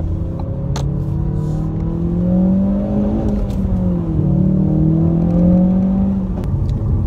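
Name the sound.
Ford Focus RS engine accelerating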